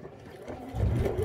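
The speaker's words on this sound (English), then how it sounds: "that is a normal noise if you're going through that many layers of fabric" A sewing machine labours through many layers of fabric while stitching a face mask, a low strained mechanical hum that grows louder and heavier partway through the brief moment.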